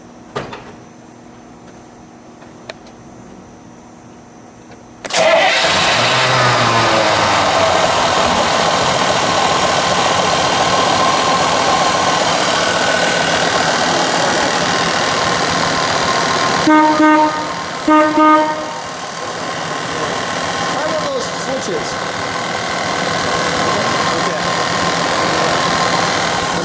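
A 1952 Cadillac Fleetwood Series 75 Derham limousine engine cranks and fires after a quiet stretch, then settles into a steady loud idle close by, with a brief tonal chirp partway through.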